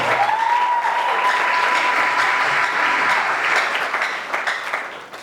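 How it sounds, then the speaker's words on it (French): Wedding guests at a civil marriage ceremony applaud, a loud, dense burst of close clapping with a faint whistle-like tone early on, holding steady before thinning out and fading toward the end. "On acclame, on acclame, on acclame, on acclame"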